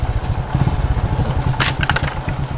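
A motorcycle rides over a slippery, rocky river crossing road, its engine thumping steadily up close while tyres clatter and scrape over stones, with a brief splashy hiss midway.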